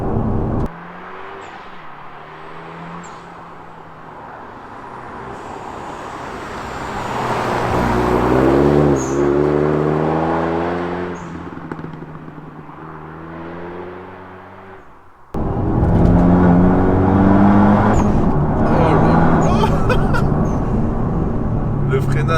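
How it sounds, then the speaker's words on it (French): A Renault Megane 2 RS R26R engine revs up and down, with sharp crackles and pops from the exhaust as someone talks over it. "Oh, ça pétarade."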